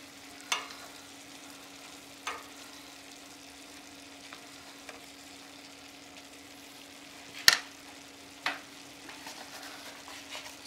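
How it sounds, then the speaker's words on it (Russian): Minced meat dish sizzling softly in a pan after simmering under a lid, with a few sharp scrapes and clinks of a utensil stirring it, the loudest near the middle, over a steady low hum. "Перемешиваем."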